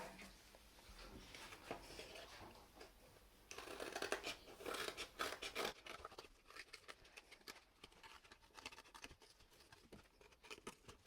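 Scissors cut out paper shapes for an art kit craft, making a close, busy run of crisp snipping and rustling paper that grows louder midway and then continues more lightly, with no speech.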